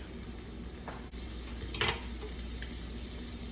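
Vermicelli browns in melted butter in a pan for stir-fried rice, giving a quiet, even sizzle with a couple of brief stirring scrapes, close by and without voices.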